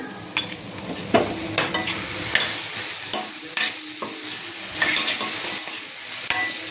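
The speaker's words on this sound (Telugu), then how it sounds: "ఇలా కారం వేసాక ఒక 2 నిమిషాలు కొంచెం వేగనిద్దామండి" Gongura egg burji frying in a pan after chili powder is added, a steady sizzle broken by repeated sharp scrapes and taps of a spoon against the pan.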